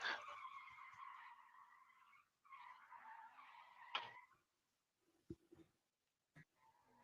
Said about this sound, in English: Like cars drifting.